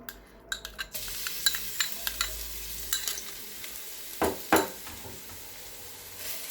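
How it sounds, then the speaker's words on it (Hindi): Garlic paste fries in hot cooking oil with a soft sizzle, broken by close metallic scrapes and taps of a spoon stirring the pan, ahead of a chicken spaghetti dish. "अब हम इसमें लहसुन का पेस्ट शामिल करेंगे"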